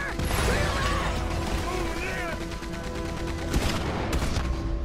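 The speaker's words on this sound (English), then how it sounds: "Fantastico il Gatling Gun" Rapid gunfire from a Gatling gun fills a Red Dead Redemption 2 shootout against Pinkertons, dense and continuous with mechanical clatter, steady loudness, and a voice briefly speaking over the din.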